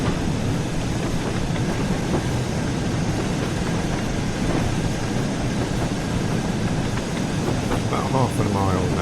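Steam train on the West Somerset Railway in Train Sim World 4, pulling carriages during a steam gala: a continuous, loud rolling rumble of wheels on rails with a faint rhythmic clatter, and someone talking over it.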